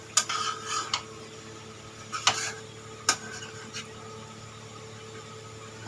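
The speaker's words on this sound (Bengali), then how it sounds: "খুন্তি নাড়তেছে" Metal spatula scraping and stirring food in a home kitchen pan, with a few sharp clinks and scrapes scattered among quieter stirring, close and fairly loud, no talking.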